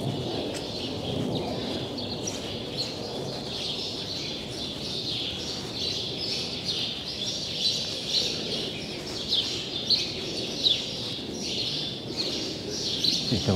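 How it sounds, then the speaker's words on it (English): Many small birds nesting up in a ceiling chirp and tweet continuously at moderate distance, a busy overlapping chatter with occasional cooing, no voices. "You can like hear all the birds nesting in the ceiling, which is cool."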